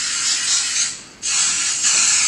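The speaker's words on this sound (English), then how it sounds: "Glade, he's spraying it on a cinder block." A can of Glade air freshener is sprayed onto a cinder block, giving two long, steady aerosol hisses with a brief dip between them, loud and close.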